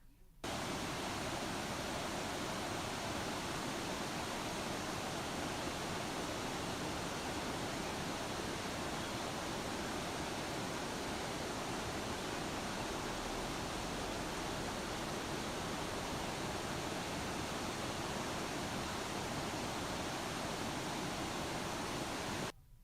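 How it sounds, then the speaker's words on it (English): A creek running close to a house, swollen after rain but within its banks, gives a steady, dense rushing hiss that continues unchanged at moderate level throughout. "even though the level of the creek rose significantly, it didn't overrun the banks or anything here"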